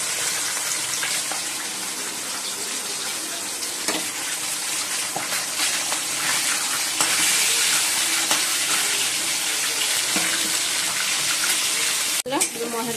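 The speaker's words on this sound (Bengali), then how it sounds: "মাছটা ভাজছি এখন।" Fish frying in a pan of hot oil gives a steady, loud, dense sizzle that holds through the whole stretch, with a few faint clinks and knocks mixed in.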